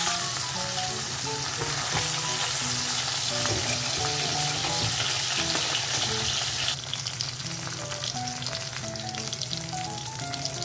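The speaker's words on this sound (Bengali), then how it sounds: "মাছগুলো খুব হালকা করে এপিট ওপিট ভেজে নেব" Fish pieces shallow-frying in oil for a Bengali khoyra mustard fish dish, a dense continuous sizzle close by, steady throughout with a slight drop in intensity partway, accompanied by a faint tonal background.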